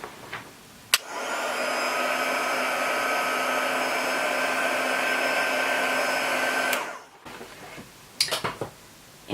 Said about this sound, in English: I'm just going to set it with the heat gun